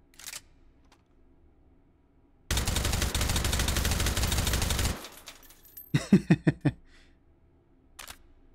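Suppressed fire from a Steyr AUG A1 in the VR shooter Hot Dogs, Horseshoes & Hand Grenades: a sustained mechanical rattle of automatic fire, then a quick string of about five sharp muffled shots and a lone final pop, with quiet gaps between.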